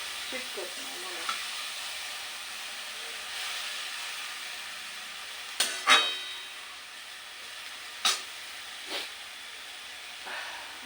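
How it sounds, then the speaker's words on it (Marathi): Green chillies frying in a pan on a home stove, a steady soft sizzle and hiss with a few sharper scraping clinks of a stirring spoon, close and fairly quiet, no talk. "हलवून घेते असे, म्हणजे काय होतं खाली मिरची चिटकत नाही म्हणून."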